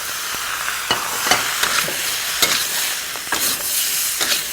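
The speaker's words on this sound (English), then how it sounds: "Now finally, add our tomatoes." Steady close sizzling as tomatoes go into a pan of spiced zucchini frying for an Indian dish, with soft stirring scrapes and bumps scattered through the hiss.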